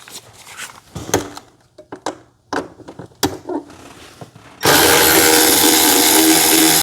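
Tool work on a hose clamp on a BMW X7 with a 6 millimeter tool: scattered clicks, knocks and ratcheting, then a loud, steady whirring rush that runs to the end of the clip.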